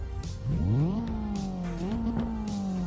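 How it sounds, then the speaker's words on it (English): A single car engine in the video game CarX Drift Racing Online revs up, holds a steady drone, then climbs again with a gear change, loud and close, mechanical and synthetic in tone. "the engine sounds here on this game"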